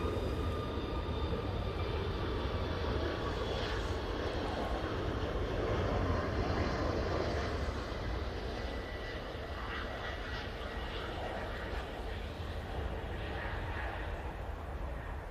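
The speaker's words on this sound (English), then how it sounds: "Embraer ERJ 145, just touching down from Aberdeen" A Logan Air Embraer ERJ 145 regional jet touches down at Manchester Airport after arriving from Aberdeen, its engines a steady, distant, faint roar with a hint of reverse-thrust swell midway.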